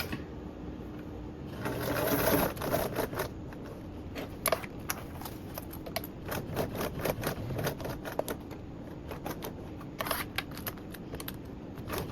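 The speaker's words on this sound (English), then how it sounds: "I'm also just going to do a little basting stitch along these two little top ends" Close, fairly quiet sewing machine basting stitches along two small top ends at an eighth-inch seam allowance, with short bursts of stitching broken by brief pauses and light clicks.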